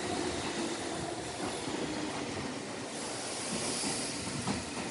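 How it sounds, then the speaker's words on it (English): A train bound for Nagoya rumbles past a station platform in Japan, giving a continuous, fairly close roar with airy hiss and a faint clatter. The sound stays steady throughout, with no talking. "The train behind me, going to Nagoya."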